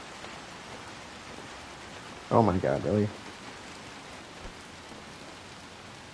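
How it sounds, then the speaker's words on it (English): A steady hiss of rain falling continuously in the video game Little Nightmares II on PS5, with a person speaking briefly in the middle over the downpour. "It is raining."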